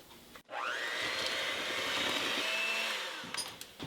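Blender quickly blitzing a keto cheesecake mixture with chocolate chips, a steady loud whirring motor run of about three seconds after a brief start, fading slightly before stopping.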